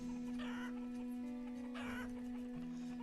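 Chickens cluck in the town-building game Banished, two short bursts of soft clucking over a steady droning game soundtrack, with no talking.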